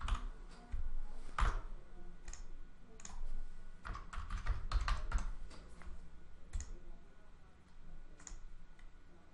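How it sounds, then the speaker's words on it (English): Someone enters login details on a computer keyboard, giving faint, irregular clicks and clusters of quick keystrokes over quiet room tone, with no one speaking. "I'm going to type in my login details."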